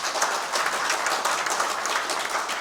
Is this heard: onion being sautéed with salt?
no